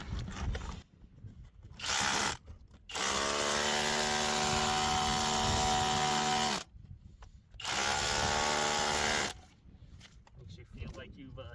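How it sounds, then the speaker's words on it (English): A power drill runs in three loud bursts, whirring and grinding with a steady mechanical whine, separated by short quiet gaps. "This thing's really good at drilling holes."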